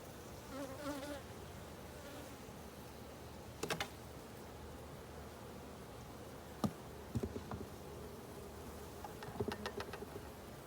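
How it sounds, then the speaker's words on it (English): Honey bees at an open hive give a faint, thin, continuous buzz close by, broken by a few soft clicks and taps. "Now there's a bee here."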